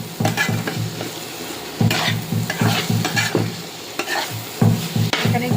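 Soybean chunks and potato sautéing in a pan, with repeated rhythmic stirring scrapes over a steady sizzle, close and fairly loud, no talking.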